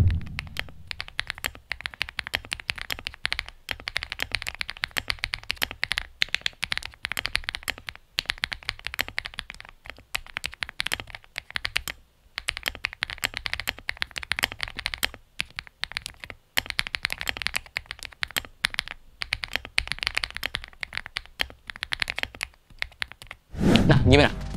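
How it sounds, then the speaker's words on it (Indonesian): Rapid typing on a KiiBoom MoonShadow V2 keyboard fitted with KiiBoom Flick linear switches, a steady close-up stream of keystroke clacks with brief pauses, ending in a short louder thump. "Untuk suaranya, typingnya kalian coba denger deh."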